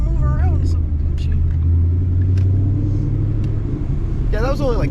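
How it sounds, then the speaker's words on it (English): A 2013 Ford Mustang engine rumbles loudly and steadily with a rough, blatting exhaust note from a bad exhaust leak, and a voice briefly breaks in near the end. "I think that you have a really bad exhaust leak"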